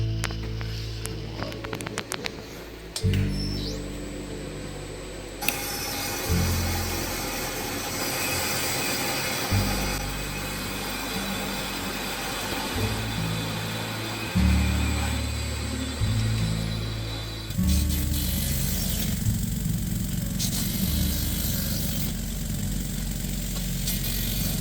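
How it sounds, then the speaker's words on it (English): Cutting tool machines the exhaust port tops of a Porsche 912 cylinder head set on an angle, a steady grinding mechanical drone that shifts in pitch and level between passes, with no talk. "I've got to set up on an angle to machine the tops off the exhausts"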